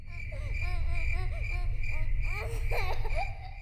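Wailing child cry in Minecraft, a series of rising and falling sobbing cries repeating over a steady insect-like buzz and low rumble of ambient game sound.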